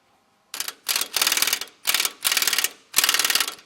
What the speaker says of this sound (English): Tighten that bolt back down.